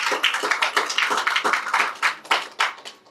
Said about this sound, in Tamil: அவங்களுக்கு எல்லாரும் நீங்கள் கைத்தட்டி சந்தோஷப்பட்டுருமா